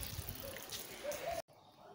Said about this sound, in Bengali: আর এই জল ভরছে